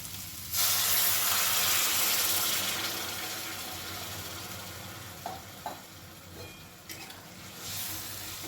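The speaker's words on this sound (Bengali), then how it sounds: "এবারে এর মধ্যে দিয়ে দেবো গরম জল" Hot water goes into a pot of sizzling paneer curry, setting off a sudden loud hiss and sizzle that slowly fades, with a few faint clinks near the end.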